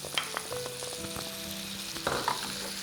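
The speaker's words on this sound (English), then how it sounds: "Also add in the other sardines with the tomato sauce" Sardines in tomato sauce fry in a pan for a South Indian sardine bhaji, giving a steady sizzling hiss broken by a few sharp utensil clinks and scrapes.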